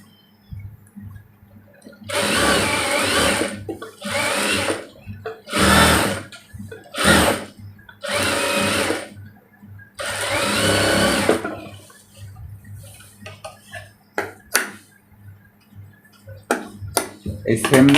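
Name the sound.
sewing machine stitching a kameez neckline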